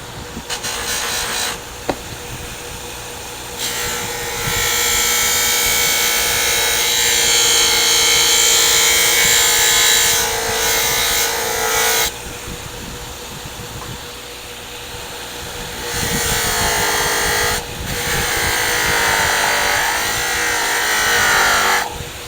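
A very small carving-tool veiner is sharpened on a powered wheel, giving a loud, continuous grinding whir that runs in long stretches and briefly stops and restarts. A steady motor hum sits underneath, and no one speaks.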